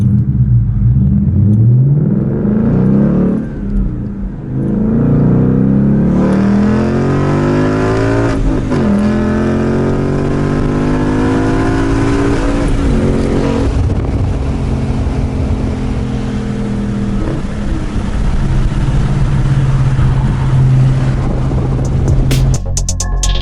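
A manual 2017 Ford Mustang GT 5.0 V8 accelerates hard on a road, its loud engine rising through the revs several times with gear changes between pulls and no talking.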